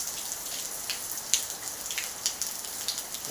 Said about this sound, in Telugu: ప్రజెంట్ అయితే నెల్లూరులో భారీ వర్షాలు కురుస్తున్నాయి